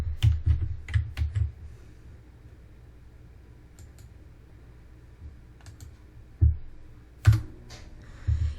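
Bursts of typing on a computer keyboard, quick clusters of clicky keystrokes separated by pauses, with a few louder isolated key hits near the end.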